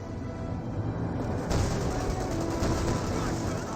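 Machine-gun fire from an MG bunker in the strategy game Company of Heroes 2, with rattling bursts and booming artillery heavy throughout a busy battle mix, steady and loud, with someone talking over it.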